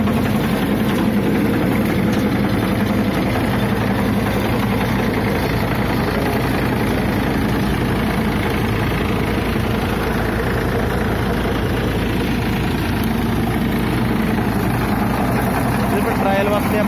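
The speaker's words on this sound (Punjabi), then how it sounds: "ਟਰਾਇਲ ਵਾਸਤੇ ਆਪਾਂ ਛੋਟੇ ਟਰੈਕਟਰ ਮਗਰ ਪਾਇਆ" A small single-clutch tractor pulling a Happy Seeder during a field trial gives a loud, steady engine drone throughout, close and unbroken.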